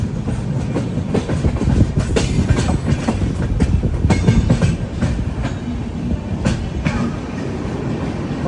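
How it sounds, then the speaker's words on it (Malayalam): A Humsafar Express train pulls into Lonavala railway station, its steady rumble and clattering wheels loud and close throughout with sharp clanks and squeals breaking through. "ലോണാവാല റെയിൽവേ സ്റ്റേഷനിലേക്ക് ഇതാ ട്രെയിൻ എത്തിക്കൊണ്ടിരിക്കുകയാണ്"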